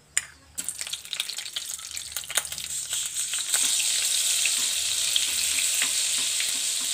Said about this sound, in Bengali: এখানে আমি 2 টেবিল চামচ সাদা তেল দিয়েছি, এর মধ্যে মাখনটা দিয়ে দিচ্ছি।